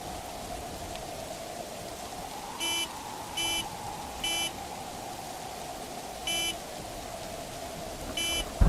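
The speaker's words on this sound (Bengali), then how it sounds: "মনে হলো গাড়ির হর্ন।" Cartoon car horn beeping through a stormy night: five short, evenly pitched honks at irregular intervals ring out clearly over steady, hissing rain.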